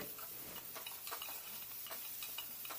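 Bottle gourd tempering in a pan: a steady soft sizzle of frying runs throughout, with light clicks of stirring scattered on top, and no talk.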